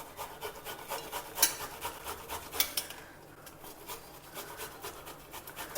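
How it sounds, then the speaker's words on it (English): Boiled food grated by hand on an oiled grater in a home kitchen, a soft, quiet rasping repeated in quick regular strokes with a short pause partway through. "Just smear some oil on the grater so that it doesn't stick to it, and grate it like this."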